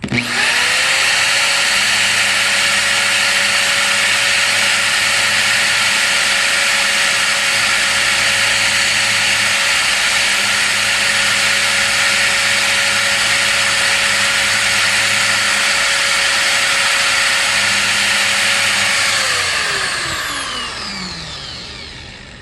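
A power sander works a plastic part from a 2000 Dirt Devil Featherlite vacuum with 800-grit paper, whining steadily and close for about twenty seconds before spinning down.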